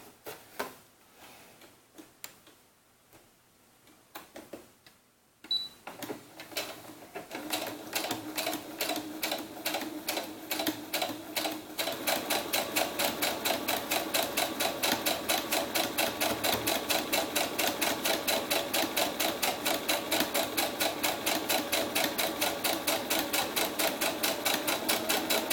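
Close up, a sewing machine stitches a doll's sunsuit. After some quiet handling, it starts slowly, then settles into a fast, even, loud rhythmic clatter that runs to the end.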